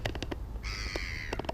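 Crows caw repeatedly at close range while being fed in woodland, with a sustained harsh call in the middle and shorter caws before and after.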